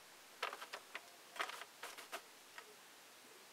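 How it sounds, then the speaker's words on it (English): A Sentro knitting machine being cranked a little, giving a faint series of light, irregular plastic clicks and ticks, some in quick bunches, with short pauses between them. "I'm going to crank just a smidge"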